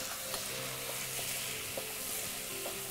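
Potatoes fry in a pan over medium heat as part of a biryani dish, giving a steady, close sizzle with occasional light clinks of a stirring utensil, no talking.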